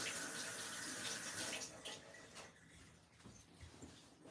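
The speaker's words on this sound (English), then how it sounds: "I'm going to wash my hands." Tap water runs into a sink during handwashing, a steady broadband splash that is loud at first, then thins and turns more intermittent as the hands move under the stream, with no talking.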